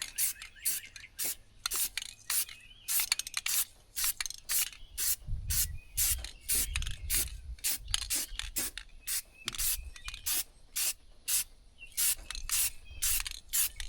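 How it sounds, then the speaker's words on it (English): Black spray paint hisses from a can onto the cabin vent area of a Lexus GX470. Short, close bursts repeat in a steady rhythm of about two per second, separated by brief pauses. "you can just cover anything up with some black spray paint"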